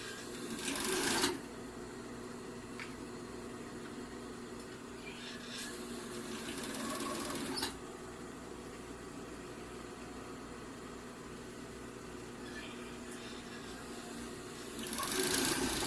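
Sewing machine stitching a seam on boxer shorts, a steady continuous mechanical whir running throughout with brief louder bursts at the start, middle and end, close and alone with no talk.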